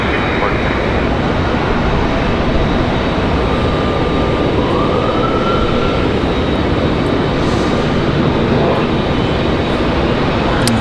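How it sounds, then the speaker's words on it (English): Embraer E-175 jet airliner in United Express livery on the runway at Raleigh Durham airport, a loud, steady engine roar and rumble holding constant close by, with a faint whine rising briefly midway. "our E-175 is going to get off the runway right here up close"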